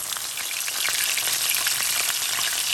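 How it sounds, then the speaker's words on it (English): Fish fries in a pan on a stove, giving a steady, dense sizzle with small crackling pops throughout, close and continuous with no talking. "So we got our fish frying here"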